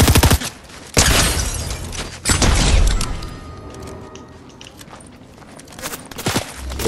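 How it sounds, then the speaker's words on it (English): Video game gunfire in dense bursts, loud heavy shots at the start and again near one and two seconds, then scattered rapid cracks and thuds continuing under a busy rumbling mix. "I'm getting shot at right here."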